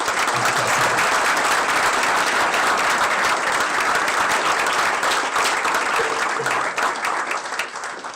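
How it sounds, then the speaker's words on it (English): A large audience at the Shenandoah University Founders' Day ceremony gives a long, dense round of applause that fills the hall steadily for about eight seconds before beginning to thin out at the end. "a big round of applause for Dr. Tracy Fitzsimmons."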